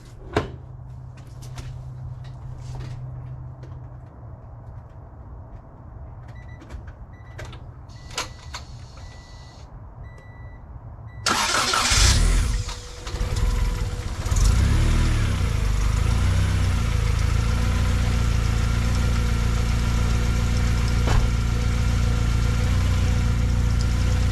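A turbocharged Honda Integra engine cranks and catches about halfway through, then settles into a loud, steady, smooth idle with a broad rushing hum, after a quieter stretch of low rumble and scattered clicks.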